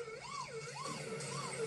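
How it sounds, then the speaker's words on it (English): An electronic siren in the video game Paw Patrol Grand Prix 2 wails in quick, repeated rise-and-fall sweeps, steady and fairly loud, with nothing else heard around it. "I'm going to use the siren."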